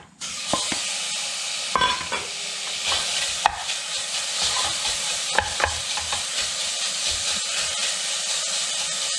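Diced bacon sizzles and fries steadily in a pot, a continuous loud hiss broken by a few sharp stirring clicks and scrapes, with no talking.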